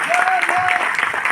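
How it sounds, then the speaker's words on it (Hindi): Audience applause at a Hindi-language business seminar, dense and steady clapping close by, with a faint tonal whistle-like sound riding over it briefly. "अब तालियां बजानी है तो तसल्ली से बजा लो"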